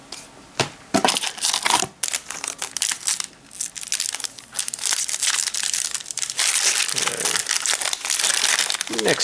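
A foil wrapper on a Shadows over Innistrad Magic booster pack crinkles and tears as the pack is opened, in close crackling bursts that come and go for several seconds, with someone talking in between.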